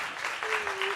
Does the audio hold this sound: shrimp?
no